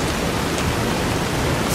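Steady, dense rainstorm from the game Fallout: New Vegas, a broad continuous hiss of heavy rain on surfaces that stays loud and unbroken throughout, with no voices.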